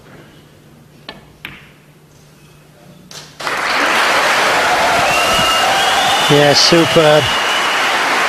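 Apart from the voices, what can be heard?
snooker crowd cheering as green ball is potted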